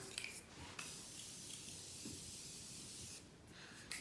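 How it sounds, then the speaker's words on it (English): Two short hissing bursts of Morphe Continuous Setting Spray, one at the start and one near the end, with quiet in between. "I'll back it up with a little bit of Morphe Continuous Setting Spray"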